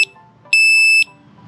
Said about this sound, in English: lit up, and it beeped 3 times, meaning it is ready to rock